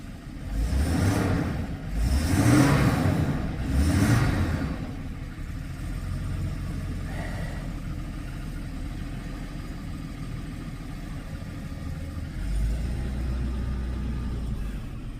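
A classic Daimler 3.6 car idles steadily after a freezing cold start in a winter workshop, its low rumble continuous and near, a little louder and uneven at first before settling.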